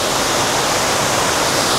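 A forest waterfall along the route to Kodaikanal roars in a loud, dense, unbroken rush of falling water, close by and steady with no talking.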